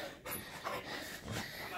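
Dogs pant and snort nearby in short breathy bursts, with a person's voice mixed in amid indoor floor-exercise commotion.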